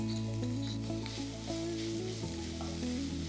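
Crushed garlic and ginger sizzle steadily in a pan of hot oil for Chettinad chicken curry, a constant close hiss with faint stirring scrapes and no talk.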